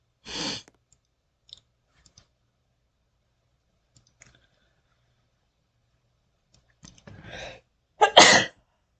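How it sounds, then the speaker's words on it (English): A person sneezes, with a faint sneeze early on and two sharp, loud bursts near the end, separated by long quiet gaps with small clicks. "I feel like I'm about to sneeze."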